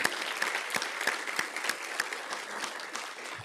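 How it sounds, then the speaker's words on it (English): A civic audience at a 2025 State of the City event applauds the city's board and commission members. The clapping is fairly quiet and thin, with individual claps distinct, and it tapers off toward the end. "How about one final round of applause for all of them, all their hard work?"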